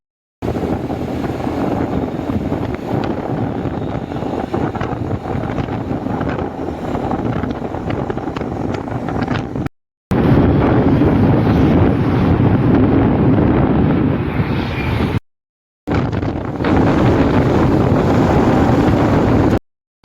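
Steady roar of wind buffeting the microphone while riding a scooter on a 30 to 35 kilometre trip, loud and continuous with two brief dropouts.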